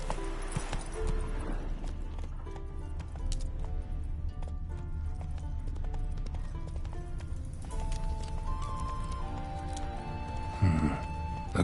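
Roach, the horse in Witcher 3, plods along at a walk, with steady hoof clip-clops set against an ongoing game backdrop of music and ambience, then a brief louder scuffle near the end.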